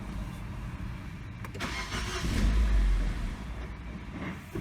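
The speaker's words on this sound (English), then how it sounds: "I'm gonna start the vehicle up" A Nissan Sentra with an idle stalling fault cranks and catches, its engine rising to a swelling low roar before sagging and dying away, heard up close.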